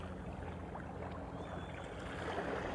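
Seawater at a coastal spot in Tongyeong laps and washes in a soft, continuous murmur, close by and unbroken, with no voices.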